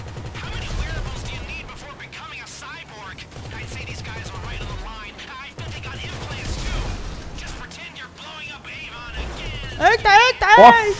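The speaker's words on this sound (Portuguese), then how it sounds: "É tiro." Video game gunfire in GTA Online during a heist chase, repeated bursts of shots in quick volleys amid game sounds, with a player talking excitedly over them.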